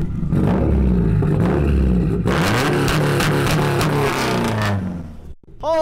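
A Subaru STI hatchback running on E85 revs hard and loud, its engine note rising and falling in close, sustained bursts before cutting off abruptly near the end.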